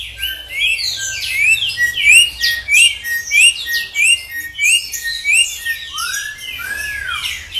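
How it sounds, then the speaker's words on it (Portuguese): A yellow and black saudade bird, a wild species kept in captivity, repeats bright, loud whistled song phrases at close range in a fast, regular rhythm, with a few softer calls at the end. "Este canto é de um pássaro chamado saudade."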